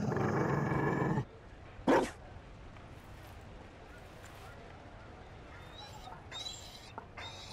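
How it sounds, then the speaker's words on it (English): A Mabari war dog in Dragon Age: Inquisition gives one loud bark, then goes quiet, leaving soft whimpers and faint game ambience. "You found a dog. They don't breed Mabari in Orlais."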